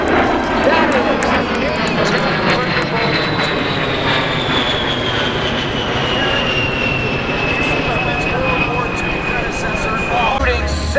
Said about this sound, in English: take a look at one of the most potent airplanes ever built